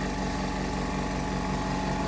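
A small Prodif Silent 6 air compressor motor runs in a garage, giving a steady, even hum with a low pulsing rumble and no pauses throughout.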